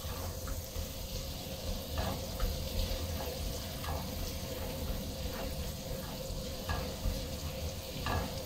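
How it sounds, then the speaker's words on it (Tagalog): Garlic sautéing in butter in a frying pan, a steady close sizzle with occasional soft clinks and scrapes of stirring throughout. "nilagay ko na po yung garlic. And isaute lang siya"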